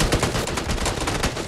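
Sustained automatic gunfire in PUBG: Battlegrounds, a fast, evenly spaced string of loud close shots filling the short burst without pause.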